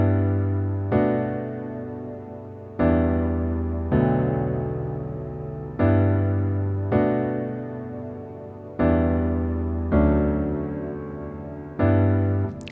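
Piano chords played back from a DAW in a beat-making session, six sustained chords struck at an even, slow rhythm about every two seconds, each ringing and fading before the next, with no talking.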